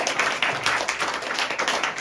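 Scattered applause from an audience after a presentation on UPI, a brief patter of separate claps at moderate distance, fairly quiet, with no talk.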